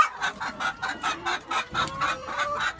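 A chicken in a pasture eggmobile clucks in a steady, rhythmic series of short, close clucks, about three per second.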